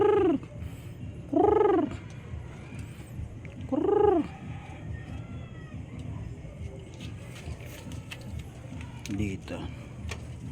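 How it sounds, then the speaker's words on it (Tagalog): Chinese pigeons at close range give three rising-and-falling cooing calls in the first half, over a steady low background hum with faint scattered chirps. "pigeon, Chinese pigeon."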